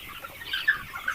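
Chickens in a four-level coop give soft, scattered clucks in a short burst over low background noise.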